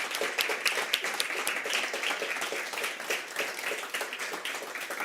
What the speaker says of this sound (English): Please join me in giving them a huge applause for their exceptional work.